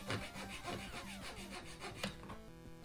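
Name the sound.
hand saw cutting wood along the grain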